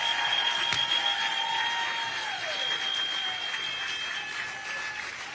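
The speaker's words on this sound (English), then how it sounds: "Let's give them another round of applause." A crowd at a Democratic political counter-event claps in a loud, sustained round of applause, with a steady tone ringing through the room as the clapping continues.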